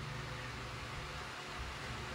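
An air conditioner condenser unit runs steadily during a self-vacuum procedure after a condenser replacement, giving a constant low hum with broadband fan noise and no talk.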